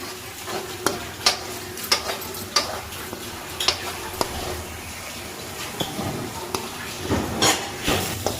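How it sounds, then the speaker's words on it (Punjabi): Tadka spices frying in hot oil for a chole dish in a home kitchen, a steady low sizzle with repeated sharp clicks and taps of a stirring spoon against the pan. "ਸਾਡਾ ਤੜਕਾ ਭੁੱਜ ਰਿਹਾ"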